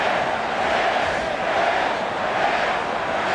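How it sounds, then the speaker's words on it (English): A boxing arena crowd hollers in a dense, steady roar that fills the whole stretch without pause, loud and broad, with no single voice standing out. "that silliness of the crowd is hollering, fix it"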